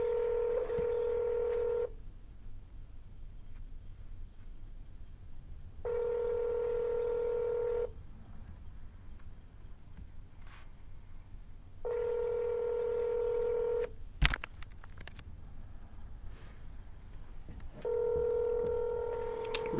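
Bursts of touch-tone telephone dialing during real estate cold calling, steady paired tones lasting about two seconds each and repeating every four seconds or so, with quiet line hiss and a sharp click in between.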